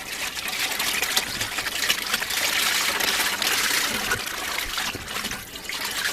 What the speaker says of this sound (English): Then we're going to add our 5 quarts of water.